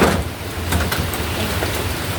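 Heavy rain pouring steadily as a loud, dense hiss with occasional clattering hits, continuous throughout with no talk.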